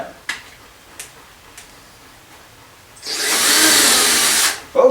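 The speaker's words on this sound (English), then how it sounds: "I'm going to drill it perfectly right in the center of that awl mark" A power drill bores a pilot hole at an awl mark in a Fender amplifier cabinet while tilt-back legs are fitted. A few sharp taps come first, then a close, loud whirring burst lasting under two seconds before cutting off.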